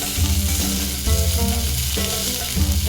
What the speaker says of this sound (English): Now we take some scraps and put them in the pan.